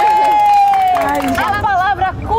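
Studio audience on a Portuguese-language quiz show in Jundiaí cheering and shouting for contestant Isabela, a loud sustained mix of whoops and excited voices with a hint of clapping.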